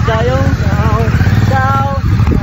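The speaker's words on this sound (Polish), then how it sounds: "Porozmawialiśmy sobie z ludźmi na motocyklu. Właśnie odjeżdżają." Motorcycle pulling away along a sandy road in Sicily, a steady mid-pitched engine drone with wavering pitch, fairly close and constant under someone speaking throughout.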